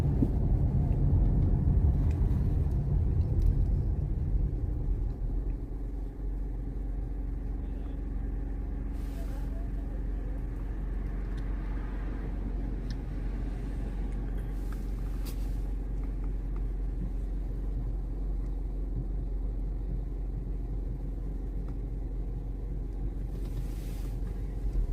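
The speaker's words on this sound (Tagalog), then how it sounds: "Traffic" Road traffic in Canada makes a steady, low rumble that carries on for almost half a minute, with heavier engine noise at the start and faint passing swishes after that.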